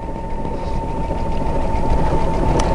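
A Brother sewing machine with a circular attachment runs at a steady, loud, unbroken hum throughout, stitching around a circle with no pauses.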